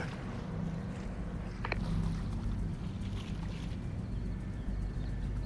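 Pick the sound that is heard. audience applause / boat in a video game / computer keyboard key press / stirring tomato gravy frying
boat in a video game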